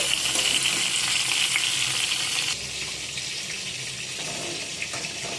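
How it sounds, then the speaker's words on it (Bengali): Pointed gourd (potol) slices frying in oil, a steady, bright sizzling hiss that runs the whole time, dropping slightly in loudness partway through, with faint clinks beneath it. "আর একটু আমি ভেজে নেব"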